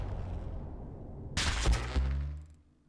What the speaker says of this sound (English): Did you also hear a distant explosion?